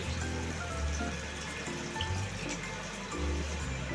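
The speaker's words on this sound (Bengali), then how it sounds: "এখন আমি গ্রেভি করার জন্য নর্মাল জল অ্যাড করে দিচ্ছি" Plain water being poured into fish curry gravy in a pan, a faint continuous watery pour with steady bubbling beneath it.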